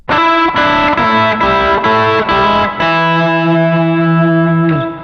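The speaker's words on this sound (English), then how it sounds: "we're going to look at playing open strings simultaneously with fretted notes" An electric guitar plays a quick distorted lick of repeated notes, then lets a chord ring out and fade, loud and close.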